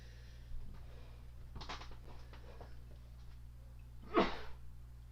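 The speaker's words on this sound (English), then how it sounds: "While I sneeze out the results of ripping cotton flannel in front of my face." One sharp, breathy sneeze near the end, caused by ripping cotton flannel, preceded by a few soft rustling breaths over a steady low hum.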